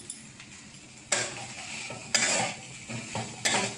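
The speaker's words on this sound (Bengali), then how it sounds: "তো দেখো এখন ভেড়ি কষাচ্ছি, আর একটু সময় লাগবে কষাতে।" A spatula scrapes and stirs okra, potato, onion and tomato frying in a pan, giving three clear scraping strokes over a soft, steady sizzle.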